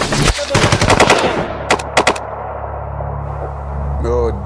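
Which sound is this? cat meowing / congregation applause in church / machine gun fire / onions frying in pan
machine gun fire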